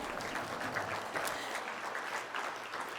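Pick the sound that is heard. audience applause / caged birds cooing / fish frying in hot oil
audience applause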